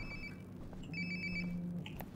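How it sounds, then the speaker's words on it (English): In the video game Life Is Strange: Before The Storm, a cell phone rings nearby with a quiet, repeating electronic ringtone that plays alone over a low room hum. "It sounds like my phone is definitely nearby."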